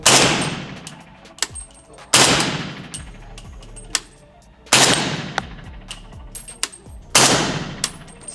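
A PSA AK-pattern rifle in 300 Blackout with a Krink-style setup fires subsonic 220-grain rounds outdoors: four loud, sharp single shots spaced a couple of seconds apart, each with a long ringing tail and small metallic clinks between them.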